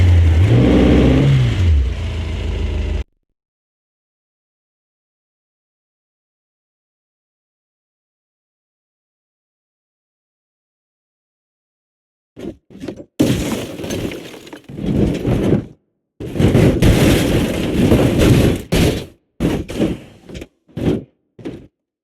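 A Ferrari California is crushed by a giant hydraulic press in BeamNG.Drive: a brief loud sound, a long silence, then a run of sharp crunching and shattering glass bursts.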